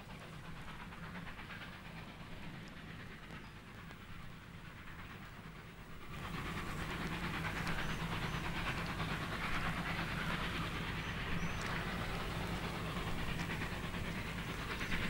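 A train runs along a railway track, producing a steady rumbling, hissing roar that grows louder about halfway through as it comes closer, with faint clattering from the wheels and no voices.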